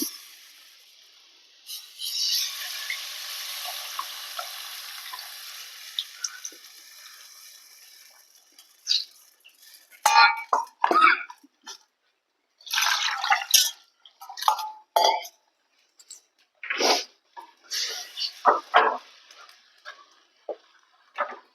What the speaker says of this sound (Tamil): இப்போ புளி தண்ணி வந்து ஆட் பண்ணிக்கலாம்